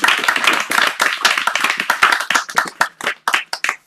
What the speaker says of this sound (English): give Martha and Fred another round of applause